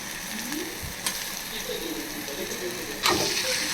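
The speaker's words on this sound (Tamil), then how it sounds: "மீடியம் சைஸ் தக்காளி ஆட் பண்ணிட்டேன். தக்காளியும் நல்லா வதக்கும்." Tomatoes sautéing with onion and ginger-garlic in a pan, a steady soft sizzle with occasional clacks of a spatula against the pan and a louder scrape near the end.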